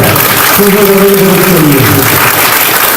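Audience applause at a junior quiz competition rings out loud and continuous, with a brief voice heard faintly beneath the clapping.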